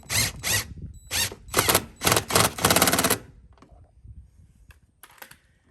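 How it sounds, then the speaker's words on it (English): A bolt being driven into a truck mudflap bracket on a GMC Sierra AT4 by a power tool, with several loud rattling bursts close up, then quieter clicks and a final short burst. "So as I install this bolt, you're going to see that liner pull in."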